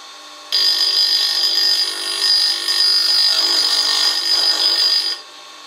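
A bench grinder with a tool-rest and guide rail grinds a test pass on a tool, a loud, steady high-pitched whine that starts abruptly, holds for about five seconds, then cuts off.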